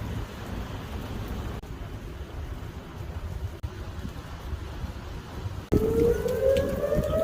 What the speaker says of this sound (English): Sirens have started going off